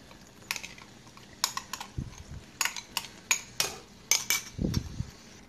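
Cottage cheese and Parmesan mixture stirred in a bowl, a series of sharp close clicks and scrapes of a utensil against the bowl in an irregular rhythm, with a couple of soft dull thumps and no talking.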